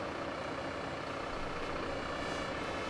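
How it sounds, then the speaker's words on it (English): A fire-service water truck and a ladder truck roll in during a farm fire in the Emergency Call 112 firefighting simulation, a steady, fairly faint engine rumble with no clear shifts. "here comes the water truck, and then the ladder truck shortly behind that"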